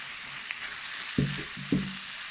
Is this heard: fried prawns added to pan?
yes